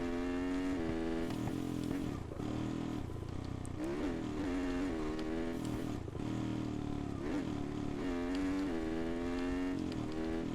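Small motorcycle engine in the TrackDayR racing game, a continuous buzzing drone rising and falling in pitch as the bike accelerates, shifts and brakes around a track, fairly steady in level.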